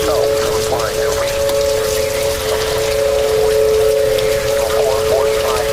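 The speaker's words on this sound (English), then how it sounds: "Rain just keeps pouring down." Heavy rain pours down during a severe St. Louis storm with tornado warnings, a loud, dense, steady hiss of drops, accompanied by a steady two-tone electronic tone, continuous and close for the whole stretch.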